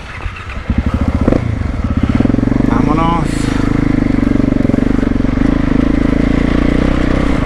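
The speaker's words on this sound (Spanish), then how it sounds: "le vamos a dar crank a esta moto también" A motorcycle engine runs loud and steady throughout, its rumble holding close with slight revving, while a person talks over it.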